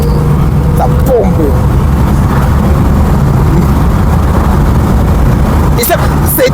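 A 145 hp 1965 Mercedes S-Class engine pulls hard under acceleration, a steady loud low rumble filling the whole stretch with no pauses, heard from inside the moving car.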